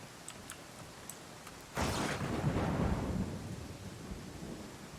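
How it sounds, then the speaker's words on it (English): A thunderstorm in the video game Pathfinder Kingmaker: faint ticks, then a sudden loud thunder crash that rolls into steady rain and a lingering rumble. "This is a massive storm."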